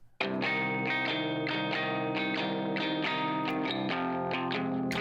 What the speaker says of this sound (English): That's just boosting the treble, compressing the heck out of it, adding a little reverb and echo.